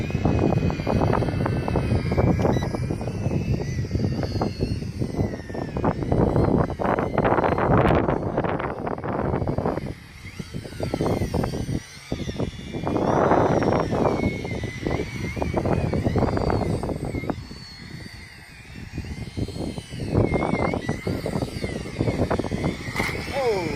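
The Wltech Triphibian quadcopter's rotors drone loudly and steadily as it takes off and flies. The whine rises and falls with gusty wind buffeting the microphone, and a voice speaks intermittently over it.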